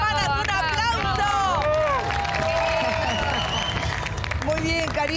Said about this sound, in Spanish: Vale ese aplauso